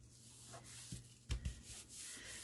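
Paper page being rubbed and pressed down to glue it in a handmade mini album, a soft steady rubbing with a few light thumps, quiet and close, no talk.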